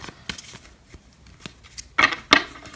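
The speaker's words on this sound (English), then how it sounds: "So we'll do 3 more shuffles." Tarot cards being shuffled in a few quick riffling bursts, two louder crisp rushes near the end after softer brushing taps, close and fairly quiet with no talking.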